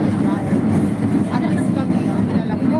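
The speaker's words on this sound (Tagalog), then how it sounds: "Maingay pa, maingay ang train." A train runs loud and close with a steady, dense rumble and faint rhythmic rattling. A voice talks over it.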